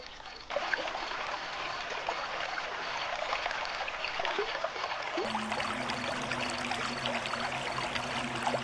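Steady rushing of a flowing river fills the scene, a continuous broadband wash with a faint tonal hum joining later.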